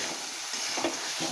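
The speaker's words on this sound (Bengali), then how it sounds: "তেল ছাড়াই মাছের তেল ভাজা হয়ে গেল।" Fish fat frying in a pan with no added oil gives a soft, steady sizzle and hiss throughout, close and fairly quiet, with a brief louder crackle near the end.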